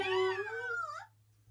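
A cat in the video game Dragon Ball Z Kakarot gives a single drawn-out meow, clear and fairly close, over a faint steady hum.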